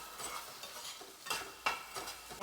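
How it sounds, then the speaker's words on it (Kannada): Spiced potatoes for alu fry sizzle quietly in a pan, with a few soft stirring scrapes and clinks of a spoon. "ಇವಾಗ ಇನ್ನೊಂದು ಸತಿ ಫ್ರೈ ಮಾಡ್ಕೊಳ್ಳೋದು ನೋಡಿ ಈ ರೀತಿ ಫ್ರೈ ಮಾಡ್ಕೊಳ್ಳೋದು"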